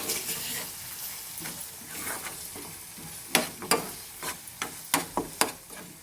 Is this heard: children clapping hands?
no